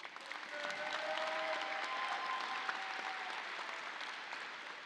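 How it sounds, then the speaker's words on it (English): Audience applause at a Coppin Academy High School graduation ceremony in Baltimore, honoring the graduates' families; steady, fairly distant clapping from a large crowd that swells quickly and holds evenly for several seconds. "Let's give our families a round of applause."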